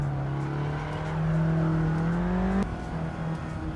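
A car engine in Assetto Corsa, running without traction control or ABS, revs steadily with a rising pitch, then drops sharply at a gear change and keeps droning, with no talk.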